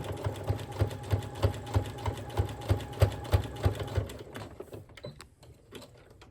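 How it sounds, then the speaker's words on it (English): A sewing machine stitches together dish drying mats with a steady rhythmic chatter of needle strokes, then slows and stops near the end, heard close with no voices. "Just make sure as you're sewing that you're hitting each drying mat as you go"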